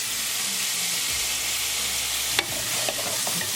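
Ground bison keema with peas and tomatoes sizzles in a pan on medium gas as it is stirred, a steady frying hiss with a few scraping stir sounds near the end.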